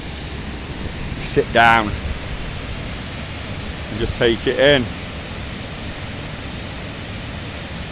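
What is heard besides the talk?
water rippling over a waterfall in Hayfield memorial park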